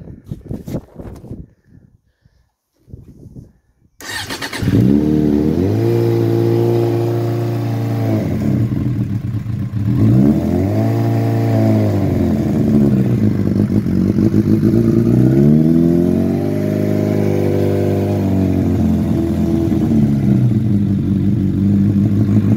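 A 2002 Suzuki GSX 750 Inazuma motorcycle engine starts after a few seconds of faint handling noise, then idles loudly and steadily up close, with repeated small swells in revs.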